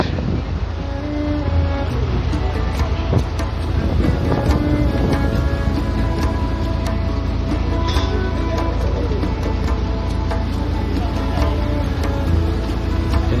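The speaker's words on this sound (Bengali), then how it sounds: "প্রচন্ড হাওয়া।" Strong wind roars continuously into an outdoor microphone at a riverside hilsa fish festival, a dense, steady buffeting rumble that stays loud from start to finish.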